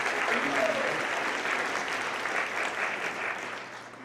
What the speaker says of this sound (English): yes, definitely a round of applause.